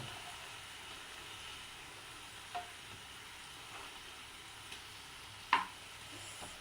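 Pineapple pieces fry softly in a pan with a faint, steady sizzle, broken by a few light taps and one sharper clink as they are flipped.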